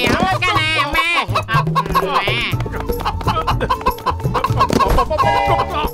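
Cartoon chickens cluck and squawk busily in quick, bright bursts over lively background music, close and loud throughout.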